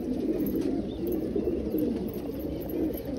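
Newly released pet pigeon cooing nearby, soft low throaty coos repeating in a steady murmur, fairly close and alone.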